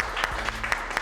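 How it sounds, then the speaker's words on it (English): A brief burst of scattered hand clapping from a small audience at a coding bootcamp demo day, with uneven claps sounding fairly close over a quiet room. "A big round of applause to you all for being with us."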